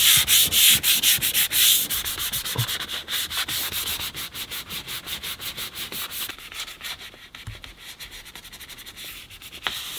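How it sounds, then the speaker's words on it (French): Sanding a burnt, damaged leather steering wheel by hand, a steady rasping rub with rhythmic strokes, close and fairly loud, with no talking. "donc là mon volant il est entièrement poncé"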